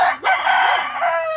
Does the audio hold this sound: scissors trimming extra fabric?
no